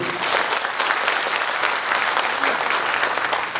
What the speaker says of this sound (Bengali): সবার উদ্দেশ্যে আমরা সবাই বর্তমান ম্যানেজমেন্টের উদ্দেশ্যে একটা করতালি দেব